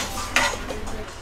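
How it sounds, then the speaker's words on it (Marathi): Boiled dal going into a spice tempering of fried ground masala in a pan for a sweet Konkani dal, with close spoon stirring, scraping and light sizzle over a steady background hiss, one louder burst partway through. "आता घालते आपली उकडलेली डाळ"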